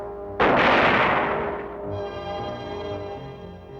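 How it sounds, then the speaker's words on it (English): A big self-propelled artillery gun fires a single loud, close blast during crew training at a large maneuver area, followed by a long rumbling decay with a faint ringing tone underneath. "Artillery crews practice to refine speed and accuracy with the big self-propelled weapons."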